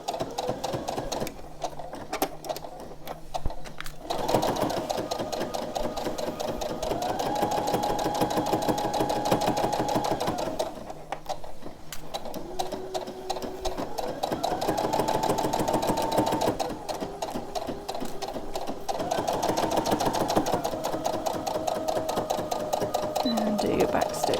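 A sewing machine stitches fabric for a memory bear in steady, loud motor runs that stop and start several times, with short pauses between bursts.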